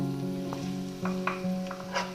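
Egg and chicken fried rice with soy sauce sizzles steadily in a hot pan, with a few brief scraping knocks from stirring over a continuous tonal background.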